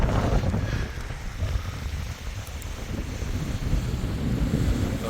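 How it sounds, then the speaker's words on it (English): Strong wind buffets the microphone on a beach beside a harbor on the Camino del Norte in northern Spain, with surf rumbling beneath. The roar is loud, steady and close for the whole stretch, and no one speaks. "It's windy as hell."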